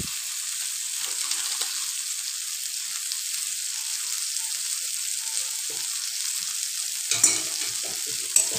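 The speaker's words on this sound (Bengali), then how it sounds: "সব কিছু একসাথে মিক্স করে নেব আর খুন্তির সাহায্যে নাড়তে থাকবো ভালোভাবে" A spatula stirs a spiced mixture of egg and flour with salt, turmeric and Kashmiri chili powder in a pan, a soft steady sizzle with light scraping, close and continuous with no talking.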